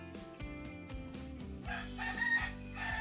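A rooster crows close by at night in the Philippines, a loud drawn-out cock-a-doodle-doo ringing out clearly over a quiet background.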